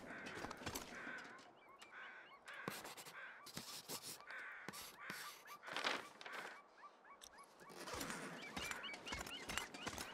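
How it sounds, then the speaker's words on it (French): Crows caw repeatedly in the survival video game The Long Dark, sharp harsh calls in a steady series, fairly close and clear with no talk over them. "Il y a encore des corbeaux là-bas ?"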